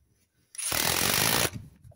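A power driver runs Tek screws into a tin roof, one steady whirring burst of less than a second with gusty wind around it.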